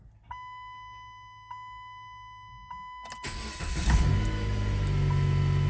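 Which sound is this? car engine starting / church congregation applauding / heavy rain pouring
car engine starting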